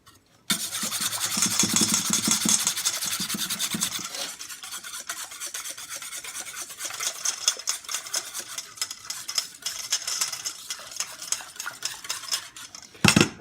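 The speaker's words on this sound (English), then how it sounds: "add them to your mixture and whisk it all together" A mixture for waffles is whisked together in a bowl, a dense continuous scraping and rattling of whisk against the sides, close and steady, with no talk.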